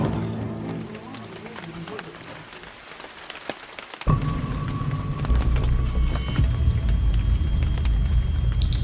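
Rain falls steadily outdoors at a summer family barbecue in France, light patter at first, then a sudden heavier downpour hisses densely on surfaces for the rest of the clip.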